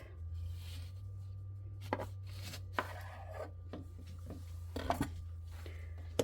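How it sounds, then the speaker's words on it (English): Kitchen knife cutting two small lemons in half on a board, a few sharp chopping taps spread over a steady low hum, close and fairly faint. "we'll cut these 2 lemons in half"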